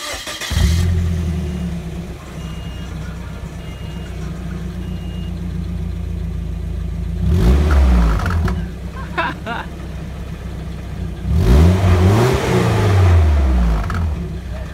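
A Nissan 240SX S14 with a KA24DE four-cylinder and deleted muffler idles with a loud, raw rumble, then rips through two sharp revs that climb and fall back, the second longer, close to the car.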